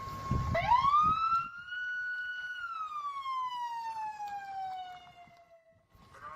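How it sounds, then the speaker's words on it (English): A tsunami warning siren in Kodiak, Alaska, wailing in one long rising-then-falling tone, distant and echoing across town, with a little noise at the start and end. "Those sirens started going off around 1:30 a.m."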